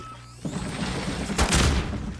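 Grenade blast in a shooting video game, one loud, broad explosion rolling out after a short stretch of quieter game sound.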